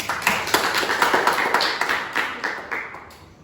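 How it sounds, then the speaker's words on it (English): Scattered clapping from a panel discussion audience, a modest cluster of individual claps with distinct separate hits that thins out toward the end, fairly close. "Give applause."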